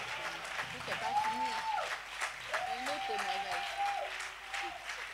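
A church congregation claps and applauds in praise of the Lord, steady rhythmic clapping continuing throughout under singing voices.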